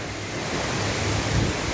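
Gorge Falls on upper Tallebudgera Creek roars as a dense, constant rush of falling water, close and loud, with no voices.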